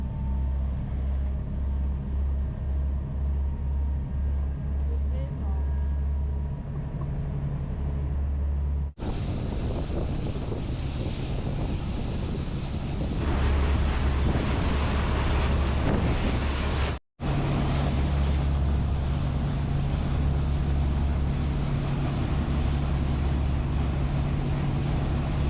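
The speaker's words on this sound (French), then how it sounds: "ça c'est l'accélération normale du ferry, elle est hyper puissante" A ferry accelerating hard, with a steady, loud roar of engine, wind buffeting and water rushing that swells after the first few seconds and keeps going with only a brief dropout.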